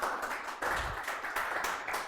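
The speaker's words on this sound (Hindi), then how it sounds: "तालियां भाई, तालियां प्रणव के लिए, बजा लो" A classroom of students claps together for a classmate, a dense, continuous patter of many hands that stays fairly even and moderately loud, with no voices.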